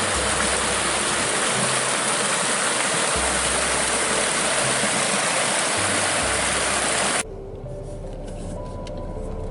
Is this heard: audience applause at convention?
no